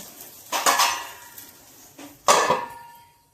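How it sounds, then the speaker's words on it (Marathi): A metal lid set over a pan on the stove while a ragi-style dhirda cooks, two distinct clanking knocks of metal on metal about two seconds apart, close and fairly loud with quiet between. "आपण 2 मिनिटं झाकून टाकूया."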